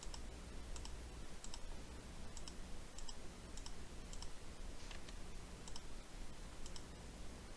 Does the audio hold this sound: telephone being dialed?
no